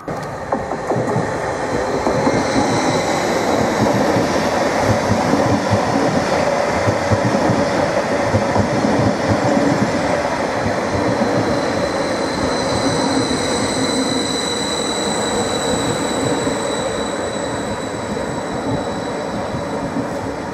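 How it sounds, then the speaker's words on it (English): A Class 745 electric train arrives at Stowmarket station, a loud, continuous rumble of wheels and carriages rolling past close by, with faint squeal and clatter throughout and no talk. "745004 has arrived into platform 2, working the 1252 service to Norwich."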